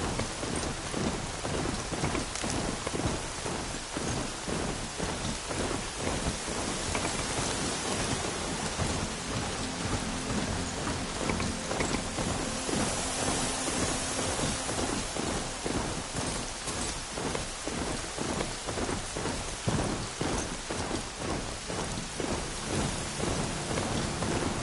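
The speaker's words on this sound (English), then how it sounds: "Here comes the rain." Steady, heavy rain in the video game Horizon Zero Dawn pours down as a dense, continuous hiss with patter on surfaces and faint rumbling thunder underneath, constant throughout and with no speech.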